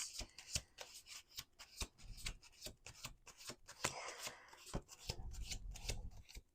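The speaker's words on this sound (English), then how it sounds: "Let's do 1 more shuffle." Tarot cards being shuffled by hand, close and quiet, a rapid series of crisp riffling slaps and flicks repeating in quick bursts with no talk.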